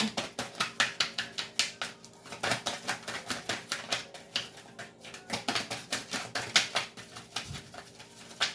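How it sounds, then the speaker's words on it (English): Tarot cards being shuffled by hand in a series of quick, crisp riffling bursts and soft slaps, close and fairly quiet, repeating in an uneven rhythm with no talking. "2 more shuffles and I'll pull from the top"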